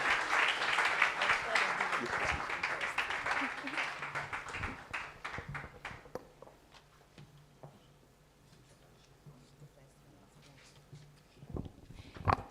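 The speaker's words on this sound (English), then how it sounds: "Oh, you want to clap and clap and clap until she sits down." Audience applause and clapping at a stakeholder forum, a full burst of clapping that thins out over several seconds into scattered claps and room noise, with a few stray sounds near the end.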